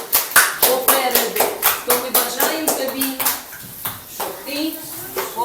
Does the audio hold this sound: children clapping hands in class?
yes